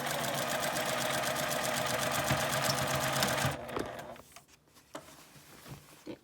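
A sewing machine stitches a lunch bag with a handle in a steady, close, continuous whir for about three and a half seconds, then stops, leaving faint handling clicks and rustles.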